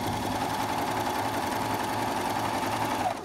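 A sewing machine runs steadily over a lace bedspread, giving a continuous close mechanical hum and rattle.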